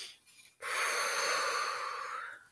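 One heavy breath is drawn in sharply and held as a loud, close, airy rush for about two seconds after a short quieter breath, with no talking.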